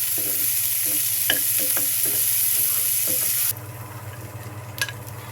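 Raisins and nuts fry in ghee in a pan over low heat, with a close, steady sizzle and crackle and a few sharp pops; the hiss drops noticeably softer partway through, and no one speaks.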